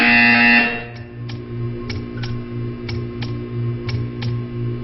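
A Portal 2 buzzer sounds in a test chamber, a loud sustained electronic tone that cuts off into a steady low hum with a series of regular clicks, alone and close.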